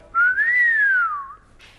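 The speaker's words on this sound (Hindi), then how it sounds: "किसने सीटी बजाई?" A single person's whistle, one clear sustained tone rising then gliding down, close and loud in a quiet room, lasting about a second.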